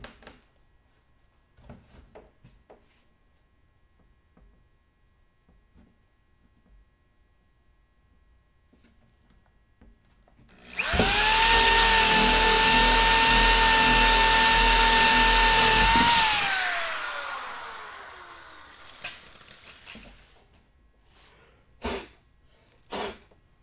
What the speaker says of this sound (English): So I'm going to drill a hole back here for the cord.